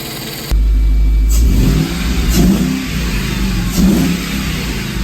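A Mercedes W202 C43 AMG, just fitted with a new EGR valve, revs hard in a few rising and falling sweeps, loud and close, with its engine humming steadily between the bursts.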